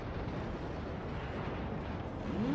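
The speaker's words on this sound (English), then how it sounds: "And Sherman detonated" A Sherman tank blowing up in a tank battle video game, a steady, rumbling, roaring explosion that holds for a couple of seconds at moderate loudness.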